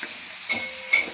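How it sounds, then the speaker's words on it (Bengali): Onions frying in a pan over a gas flame turned up high, a soft steady sizzle broken by two brief scraping stirs, close by with no talk. "দিয়ে একটু ভালো করে পেঁয়াজটা ভেজে নিই"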